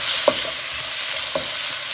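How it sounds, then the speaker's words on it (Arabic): Shrimp and onion stir-fry in olive oil and sesame oil for shrimp noodles, making a loud, continuous, close sizzle with a couple of brief stirring knocks. "اشوح الربيان بزيت زيتون، زيت السمسم،"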